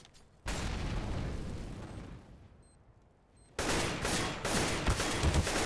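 Bursts of rapid gunfire from the Counter-Strike: Global Offensive game crackle loud and dense, pausing for a quieter stretch before another heavy volley.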